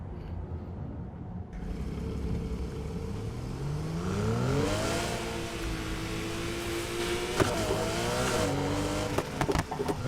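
A Mini Cooper rally car in Need for Speed Heat revs hard, its engine pitch sweeping up and down through gear changes with tire noise, loud and continuous, a brief thump near the end.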